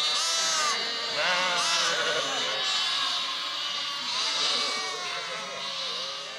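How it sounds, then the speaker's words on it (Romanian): Romanian Țurcană sheep bleating repeatedly, several wavering calls overlapping close by in a steady, fairly loud flock chorus with a voice faintly underneath. "Oi din rasa noastră, țurcană românească."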